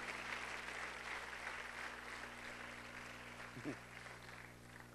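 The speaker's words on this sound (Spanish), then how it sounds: "Denle un aplauso fuerte al Dios del cielo si usted así entiende." Applause rises from a congregation at a Spanish-language church sermon, a soft, fairly distant wash of clapping over a steady electrical hum, with a brief faint sound near the end.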